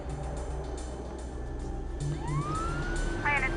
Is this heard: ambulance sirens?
yes